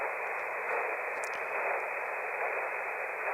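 Steady hiss of static from a ham radio receiver, with radio-frequency interference filling a band of noise, plus a few faint high chirps briefly rising over it.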